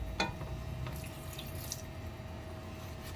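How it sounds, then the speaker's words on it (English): Water trickles and splashes steadily into a cooking pan while fish escabeche is prepared, a low continuous pour with a few faint drips, no voices. "I'll put a little bit of water para hindi naman siya dry."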